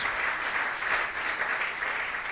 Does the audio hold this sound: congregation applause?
yes